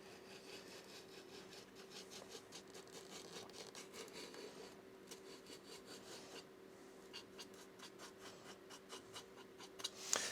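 Sandpaper rubbing repeatedly across a scratch-built RC model plane canopy, a steady series of short, close scraping strokes with no talk.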